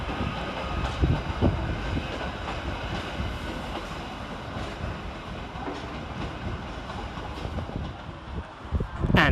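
Merseyrail class 777 electric train 777006 departs Chester station, a steady rolling rumble with scattered clicks and clatter of wheels over rail joints at moderate distance, ending in a louder burst.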